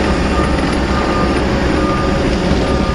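A compact machine with a blade and curled-up bucket driving steadily, a continuous engine drone and track rumble with repeated reversing beeps, close and loud throughout.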